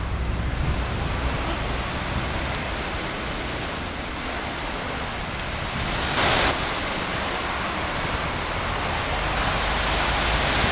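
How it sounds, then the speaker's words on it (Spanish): Sea waves at the corniche in Sidon, Lebanon, a steady broadband wash of surf that holds constant throughout, with a brief brighter swell near the middle and no voices. "el mar"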